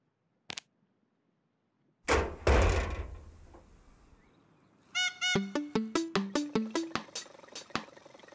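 Knocking at a door in the Twirlywoos children's cartoon: after a sharp tap and a loud rustling thump, a rapid, even run of about ten crisp knocks rings out, close and clear.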